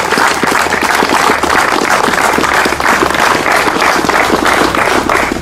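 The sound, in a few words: commemorative applause from crowd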